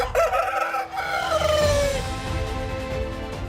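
Rooster crowing in one long drawn-out call, loud and close, followed by low clucking from chickens beneath a steady background hum.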